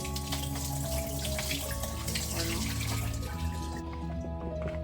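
Water from a tap pours steadily over pumpkin seeds being rinsed and drained in a colander, a continuous close splashing rush that eases slightly near the end.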